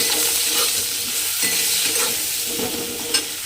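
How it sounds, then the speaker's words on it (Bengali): Eggplant seasoned with salt and turmeric fries in hot oil, giving a steady close sizzle with occasional stirring scrapes throughout and no talk. "দিয়ে এবারে আমি বেগুনটাকে একটু লাল করে ভেজে নেব।"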